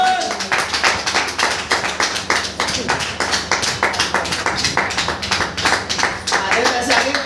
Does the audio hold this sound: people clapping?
yes